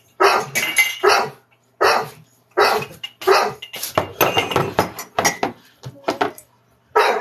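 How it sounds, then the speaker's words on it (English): A dog confined in a crate barks loudly and repeatedly at close range, in sharp bursts and quicker clustered runs with brief pauses between them. "he still doesn't stop barking."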